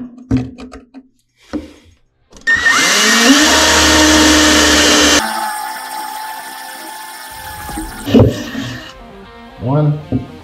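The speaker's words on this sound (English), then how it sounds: "So let's drill this out" A power drill whines loudly for a few seconds at steady speed while drilling through a Ski-Doo snowmobile tunnel, then winds down, with brief talk and clatter before and after.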